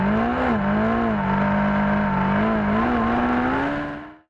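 Kawasaki Z1000 motorcycle accelerating hard, a loud, close engine note climbing steadily through the revs with brief dips at gear changes, then cutting off abruptly at the end.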